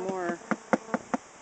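Honey bees buzz in short, faint bursts, several quick pulses in a row, as they fly around while being installed in a top bar hive.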